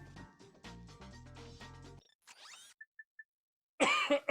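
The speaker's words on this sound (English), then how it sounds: "if you hear me cough and whatnot, sorry" A streamer with a chest cold coughs in a quick burst of harsh, close bursts after game music and beeps cut out, alone and fairly loud near the end.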